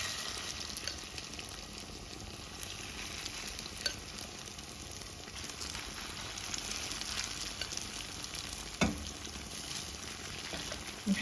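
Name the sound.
half the potato mixture frying in hot oil in a pan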